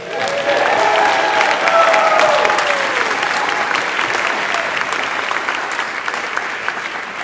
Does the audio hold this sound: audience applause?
yes